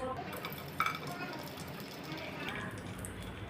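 Raisins and cashews fry in hot oil in a pan for Kerala-style chicken keema dum biryani, a soft steady sizzle with a light utensil clink, under a voice talking.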